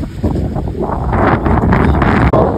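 Strong wind on a mountain road above Tehri Dam buffets the microphone in a loud, continuous rumbling roar during light rain, with gusts rising and dropping and no voices.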